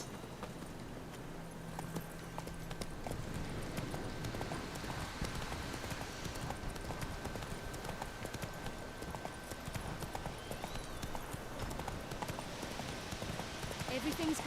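Roach, the horse in The Witcher 3: Wild Hunt, gallops with a continuous rhythmic clatter of hoofbeats over a dense, steady game soundscape.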